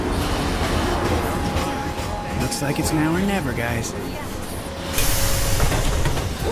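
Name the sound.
underground train arriving in a video game, Splinter Cell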